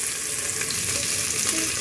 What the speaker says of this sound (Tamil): நல்ல ஆனியன்ஸ் ஃப்ரை ஆகணும்.